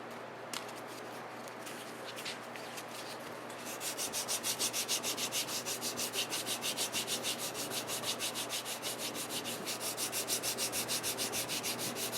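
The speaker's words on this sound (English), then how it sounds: "And so I am sanding now in the other direction" Cloth-backed abrasive paper worked over the frets of a guitar neck, faint rubbing at first, then a fast, steady back-and-forth rasp of close strokes running on with no talk.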